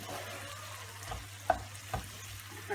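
Mushrooms and capsicum frying in a pan on a stove, a soft steady sizzle with a few faint clicks of stirring, quiet and close with no talk.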